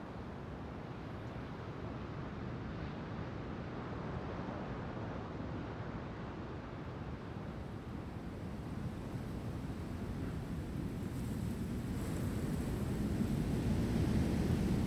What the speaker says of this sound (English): For now, this would take on the role of a general outdoor wind